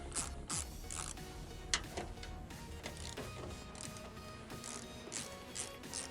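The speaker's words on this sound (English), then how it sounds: "You take a 10mm ratchet" A 10mm ratchet undoing the headlight mounting bolts on a 2011 Chevy Suburban, heard as quick close-up bursts of dry clicking pawl ratchet strokes repeating across the clip with small handling knocks between.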